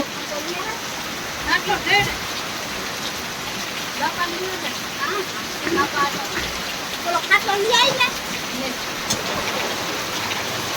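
Rain begins to fall on an outdoor surface, a loud steady hiss with scattered patters and drips, while voices talk now and then through the downpour.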